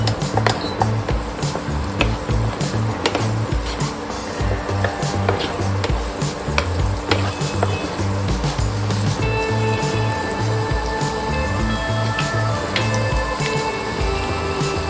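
Chopped onions and drumstick sizzle steadily in hot oil in a pan for a Goan prawn curry, with a constant crackling fry and scraping stir throughout.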